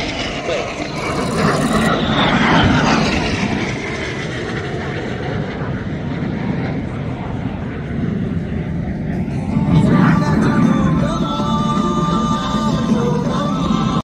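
Saudi Hawks display team jets passing overhead at an RIAT airshow, a loud continuous roar that swells and fades with a second surge near the end, while a commentator talks throughout.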